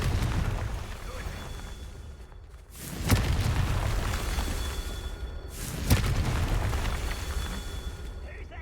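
Confringo fire spell in the video game Hogwarts Legacy, two loud booming blasts a few seconds apart over a low rumbling background, with a voice heard in the game.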